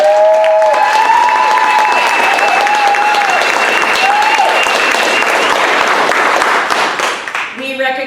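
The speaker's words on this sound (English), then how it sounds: "I just want to give her a big round of applause." A crowd claps loudly and cheers at a community event announcing a House resolution, with whoops and whistles rising over a dense roar of hands before the applause fades near the end.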